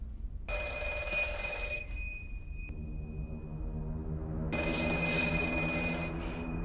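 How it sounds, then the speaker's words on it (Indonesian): A telephone bell rings by itself in a quiet room, with two bright metallic bursts of ringing separated by a short pause and a low hum between them. "tentang telepon yang suka ujug-ujug berdering dengan sendirinya"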